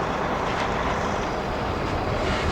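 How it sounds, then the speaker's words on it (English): A Volvo cab-over road train truck rolls along an outback road, a steady broad roar of engine and tyres holding constant and loud throughout, with no pauses or breaks. "A Volvo cab over road train."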